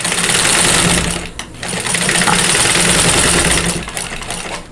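A sewing machine runs loud and steady while stitching a 9-patch quilt block, pausing briefly near the middle and again near the end, with no talk over it.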